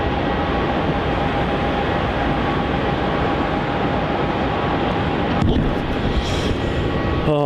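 An airplane at Melbourne Airport, Australia, makes a loud, steady jet roar that fills the whole stretch with little change in level.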